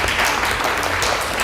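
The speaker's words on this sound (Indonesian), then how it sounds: "Tepuk tangan buat kita semua." A classroom group applauds together after an Islamic funeral prayer practice lesson, steady dense clapping filling the short moment at close range.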